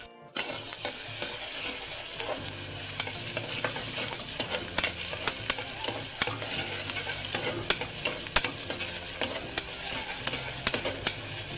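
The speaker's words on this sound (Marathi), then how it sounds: "आता मी फोडणीला कांदा घातलेला आहे कांदा व्यवस्थित परतून घ्यायचा आहे थोडा लालसर आणि मऊ होईपर्यंत" Chopped onion sautés in hot oil for chana masala, a steady, close sizzle running throughout, with frequent scraping and clicking of a spoon stirring the pan.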